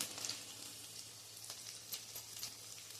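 Onion sautéing in oil for a paneer masala, a steady soft sizzle with faint crackles and pops throughout, fairly quiet and alone with no voices.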